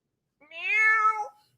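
A single drawn-out meow, clear and close against silence, made by a person's voice imitating a cat.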